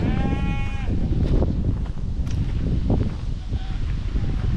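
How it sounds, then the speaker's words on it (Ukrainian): Two goats bleat nearby in Ontario, with sheep also roaming close by: a wavering cry at the start and fainter bleats later, over rustling and outdoor background noise. "Там вівці ходять, а тут дві кози."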